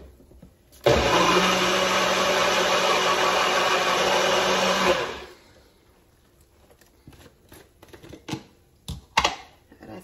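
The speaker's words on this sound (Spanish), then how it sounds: "Y seguimos moliendo." A kitchen blender grinds ingredients for sopes, running loud and steady for about four seconds before it cuts off, followed by quieter clinks and handling noises.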